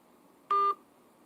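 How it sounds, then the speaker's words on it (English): A brief telephone tone as a call hangs up, a steady electronic beep lasting about a quarter second, loud and alone against faint background hiss. "The phone just hung up."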